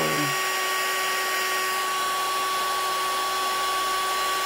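A steady, loud blowing roar of a heat embossing gun runs unbroken throughout, with a constant high whine and no voices.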